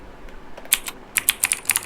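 A computer keyboard plays simulated mechanical key sounds during typing: a quick run of crisp, close clicks, first a pair and then a faster cluster of keystrokes, with no talking.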